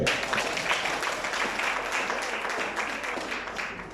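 A church congregation applauding, a dense, steady wash of clapping from many hands that fills the room for several seconds and fades slightly at the end.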